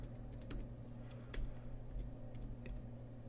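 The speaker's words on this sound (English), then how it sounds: "I can type in certain keywords" Quick, light keystrokes tapped on a computer keyboard, an irregular patter of about a dozen clicks, close but soft against a quiet room hum.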